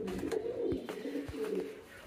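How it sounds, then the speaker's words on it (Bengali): Pigeons at a pigeon farm coo softly and repeatedly close by, their low throaty calls rolling over one another. "কবুতরগুলো বাইরে চলাফেরা করতেছে, দেখেন"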